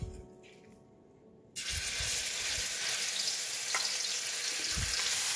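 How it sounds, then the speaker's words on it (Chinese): Steamed rendang spice ingredients hit about two tablespoons of oil and start a loud, steady sizzle after a quieter moment. Stirring scrapes and taps sound now and then under the frying. "接下来就是炒刚才蒸过的配料。 放点点油，差不多2汤匙这样，不要太多。"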